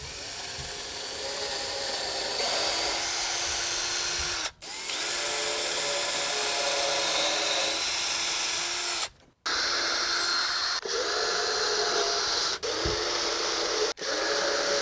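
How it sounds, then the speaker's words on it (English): Power drill boring pilot holes in wooden corner braces for a raised garden bed, a steady whining motor run in long bursts with brief stops in between, close and loud. "Now that we have the pilot holes drilled on all 4 of the corner braces"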